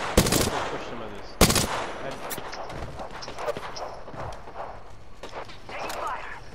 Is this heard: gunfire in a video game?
yes